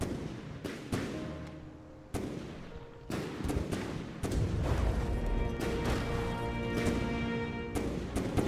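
Heavy battleship gunfire in World of Warships, a naval match between the Athos and Agincourt, with repeated booming salvos at a slow firing rate, loud and close, amid continuous battle noise.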